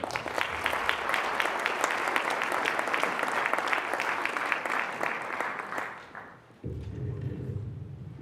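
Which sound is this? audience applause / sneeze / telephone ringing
audience applause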